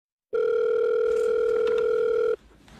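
A steady telephone tone sounds right after a call is cut off, holding loud and unbroken for about two seconds before stopping abruptly, with faint room noise afterward.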